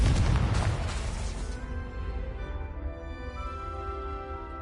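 A Confringo spell explodes in the wizarding game Hogwarts Legacy with a loud close boom that rolls off into a long ringing, shimmering decay.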